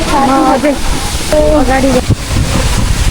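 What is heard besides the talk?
strong wind near waterfall hitting microphone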